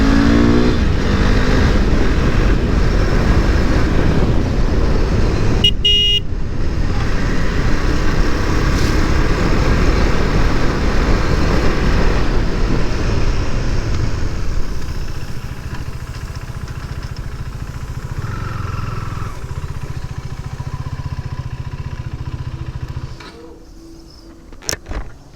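A 2024 KTM Duke 390 motorcycle engine while riding: a loud, steady drone held for about fifteen seconds, then a slightly quieter sustained run that drops away near the end with a few short bursts.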